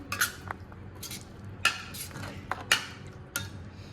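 Spice mix is stirred into a sweet grated mango pickle made with jaggery, with a spoon scraping and clinking against the bowl in a few separate sharp strokes. Softer mixing rustles sound between the strokes.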